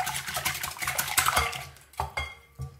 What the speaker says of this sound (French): Le plus important quand on fait fouetter ce mélange est de s'assurer que tout est bien homogène